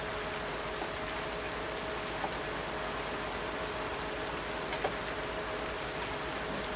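Steady rain falling on a wet farm field, a continuous even hiss of drops with a few faint taps, no voices, constant level throughout.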